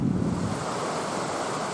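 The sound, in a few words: water flowing into a mountain tarn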